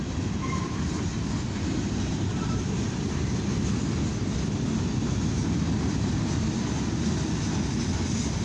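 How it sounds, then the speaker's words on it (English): A northbound CSX mixed freight train rolls past in Lima, Ohio, producing a loud, steady rumble of railcars that holds constant throughout with no voices. "This is a northbound CSX mixed freight train."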